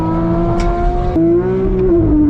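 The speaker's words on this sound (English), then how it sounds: "Oh, that Porsche is fast!" Porsche 911 GT3 race car accelerating: a loud, close, sustained engine whine climbing in pitch, with a brief shift and then rising again, steady and alone with no talk.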